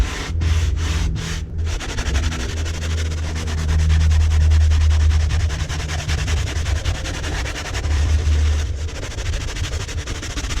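A brush scrubs leather cleaner foam into a seat in a 1960s Beechcraft Bonanza V-Tail, giving a steady, close scratchy rubbing with a few quick strokes at the start under a constant low hum.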